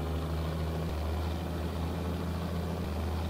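Engine loop of a Renault Major 4x2 truck in Euro Truck Simulator 2, a steady low droning hum with strong bass tones, continuous and even throughout with a brief shift near one second.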